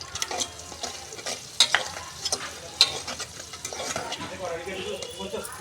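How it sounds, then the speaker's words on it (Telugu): Small fish pieces fry in a pan for a tamarind fish curry, giving a close crackling sizzle with scraping stirs and occasional clinks, while a voice speaks over the cooking. "ఇప్పుడైతే చేప ముక్కలు అయితే వేసుకుంటున్నాను."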